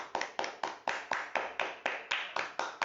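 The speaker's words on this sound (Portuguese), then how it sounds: "vamos acompanhar nossos irmãos com a salva de palmas em louvor ao Senhor" A church congregation claps in praise, a steady unison beat of sharp handclaps, about four every second, close and moderately loud with no voices over it.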